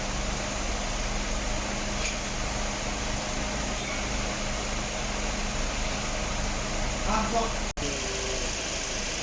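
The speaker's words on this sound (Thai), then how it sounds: "คอมแอร์ตัดคอมแอร์ทำงานนะคะ" A Suzuki Swift's steady, droning engine idle with the AC compressor running, a constant mechanical hum and whir underneath, unchanging throughout, with one brief click near the end.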